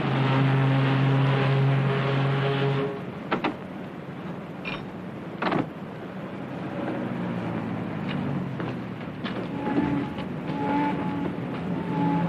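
A car engine idles steadily in a 1950s British street setting as a taxi pulls up, a continuous low rumble with a few brief knocks and clatters over it.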